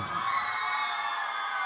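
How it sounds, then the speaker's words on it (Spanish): A crowd at an evening music show in São Paulo cheers and applauds as a singer's son is welcomed onstage, a continuous bright wash of voices and clapping with no clear pauses. "Quiero que lo reciban con un fuerte aplauso."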